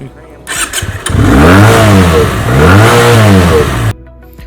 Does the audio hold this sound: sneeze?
no